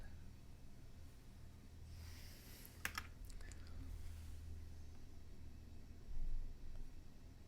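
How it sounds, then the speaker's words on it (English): Soft clicks of typing on a One Up Keyboards TKL mechanical keyboard, a short burst of keystrokes heard faintly over a quiet background hiss. "the keyboard is from One Up Keyboards. It's the TKL, and it's underlit but not backlit."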